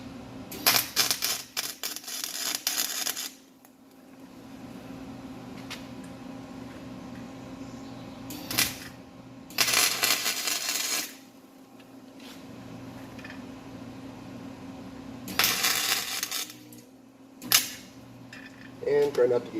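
Tack welds fixing steel nuts in place while building a cordless caulking gun: several bursts of loud crackling arc sizzle, each lasting a second or two, separated by quieter gaps.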